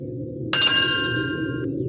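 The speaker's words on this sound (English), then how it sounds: "Then a bell rang. Not a temple bell, a shop bell." A shop bell in a roofless, abandoned stone bazaar at Bhangarh Fort strikes once, sharp and clear, with a bright metallic ring that decays slowly over about a second above a low steady wind rumble.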